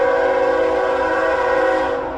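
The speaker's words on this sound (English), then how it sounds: "I hope you can hear the train in the background." A loud, sustained train horn blares close by on the Pacific Crest Trail, a steady multi-tone blast that starts to fade at the very end.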